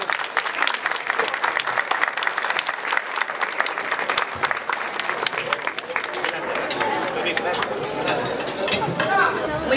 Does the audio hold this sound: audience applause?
yes